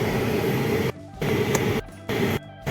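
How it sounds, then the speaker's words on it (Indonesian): A car air conditioner blower runs loudly in the cabin, a dense airy roar that cuts out briefly three times before picking up again. "Nah, sekarang AC-nya nyala tuh."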